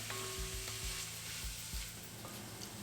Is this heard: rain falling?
no